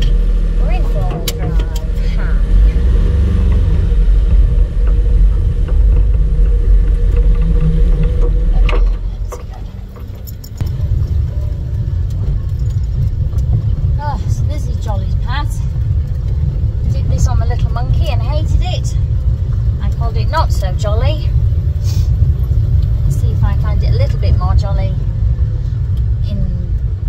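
A car rolls along the road with a steady low engine rumble and tyre roar, briefly dipping before settling again, while a voice talks over it.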